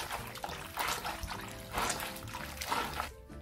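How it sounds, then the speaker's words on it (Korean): Mallow greens are rubbed and rinsed by hand in a basin of water, giving faint repeated sloshing and trickling bursts at a steady rhythm, close by and quiet. "이런 종류는 풀레가 나니까 빠락빠락 문질러 씻어야 돼요"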